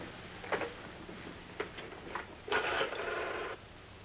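A telephone is dialed in a vintage radio detective drama, a few separate mechanical clicks and whirs followed by a longer rattling dial return, close and fairly quiet with no talk over it.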